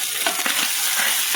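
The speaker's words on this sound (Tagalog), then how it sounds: "Nagigisa ako ng pipino." Cucumber and ground pork sauté in a hot pan, a loud, dense sizzle with light stirring scrapes, heard up close and with no voices.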